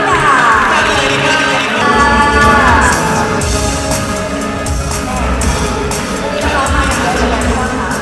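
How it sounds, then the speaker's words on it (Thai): Thai television show audience applause and cheering as a guest is welcomed, a dense, loud, steady crowd roar with clapping and shouts over background music. "ขอเสียงปรบมือดังๆค่ะต้อนรับคุณรัตนอัครานุเรนะคะ"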